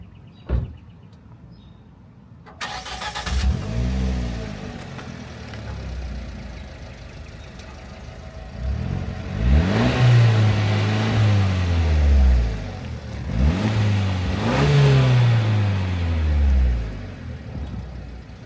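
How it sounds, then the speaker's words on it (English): A 2017 Fiat 124 Spider Lusso engine with dual exhaust cranks and fires up, then revs loudly twice in rising and falling sweeps before settling to a rumbling idle. "Do you mind if we can hear you start up the car?"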